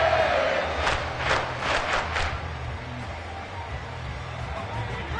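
An NFL football stadium crowd roars in a late-game situation, a loud sustained wall of cheering with rhythmic surging chant-like bursts early on, then settling into a steady broad rumble.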